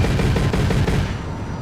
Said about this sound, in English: it is kind of like a thud there for the grenade launcher